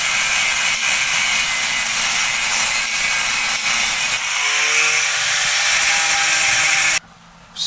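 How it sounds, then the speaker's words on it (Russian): Saw cutting excess wood off an axe handle: a continuous loud rasping cut for about seven seconds, close up, with a brief pause before it ends. "Взяли излишки, отпилили."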